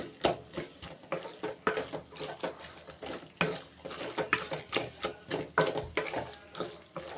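Boiled potatoes and green peas stirred in a pan with a spoon, a steady run of close, rhythmic scraping and wet clattering strokes, moderately faint, no voices.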